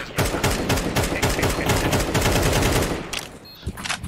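Rapid bursts of automatic gunfire from a first-person shooter match fire almost continuously for about three seconds, loud and close, then break off into a few scattered shots and brief game noises.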